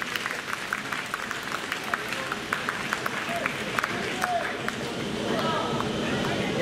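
A crowd applauds at a show, steady, sustained clapping of moderate loudness with scattered sharper claps, mixed with background chatter and voices throughout.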